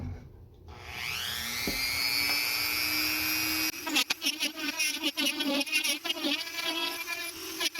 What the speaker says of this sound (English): I'm going to begin the process of hollowing this out right now and making room for the weight here. Just using a Dremel.